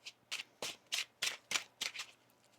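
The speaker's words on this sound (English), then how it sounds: "One more shuffle here." A deck of tarot cards is riffle-shuffled in a quiet room, about nine crisp, evenly spaced bursts of card flutter, close and soft, with no talk.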